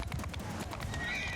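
Horses in a Mount & Blade II: Bannerlord battle with horse archers, rapid clip-clopping hooves with a neigh near the end, loud and close in a brief burst.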